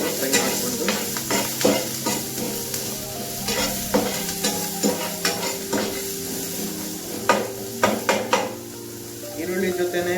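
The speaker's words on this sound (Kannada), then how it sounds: "ಈರುಳ್ಳಿ ಒಂಚೂರು ಲೈಟ್ ಬ್ರೌನಿಶ್ ಆಗೋದು ಫ್ರೈ ಮಾಡಿಕೊಂಡು" Onions sizzle in hot oil in a pan and are stirred for a diet meal, with continuous crackling frying, repeated scraping of a spoon against the pan and occasional metallic clinks, close and prominent.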